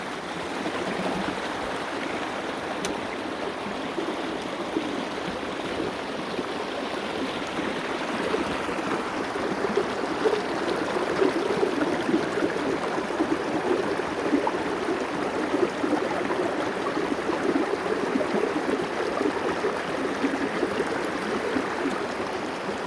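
Creek water rushing steadily through a sluice box while gold prospecting, a continuous broadband wash that swells slightly partway through, with no speech.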